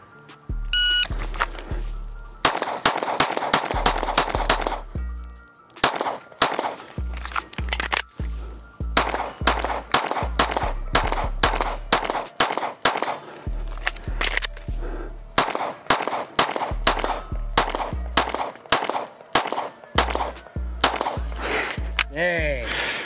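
Pistol shots ring out in a shooting training drill, sharp loud cracks fired in quick strings and pairs over about twenty seconds, with brief pauses between volleys and no talking.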